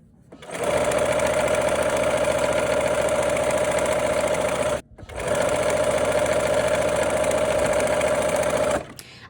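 A sewing machine stitches quilt seams in two steady, even runs of close, rapid whirring, separated by a brief pause.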